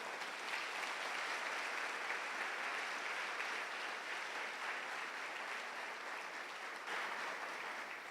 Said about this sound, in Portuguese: Dá um aplauso lindo para o Senhor agora.